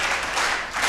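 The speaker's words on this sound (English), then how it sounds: "How do we clap for the chief guests?" A summit audience claps for the chief guests, a brief burst of many hands clapping together, fairly close and even, with no talk over it.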